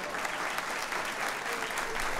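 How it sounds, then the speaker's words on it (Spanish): Steady audience applause from a studio crowd, dense and continuous clapping throughout at a constant level, with no speech over it. "El aplauso es para ellos."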